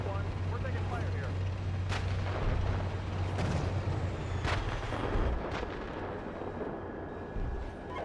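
Incoming gunfire strikes a tank in a combat video game. Sharp, loud impact bursts come every second or two over a constant, heavy low engine rumble.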